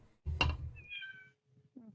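Domestic cats in a house meowing close by, one clear drawn-out meow followed by a shorter, fainter mew, heard over a quiet background.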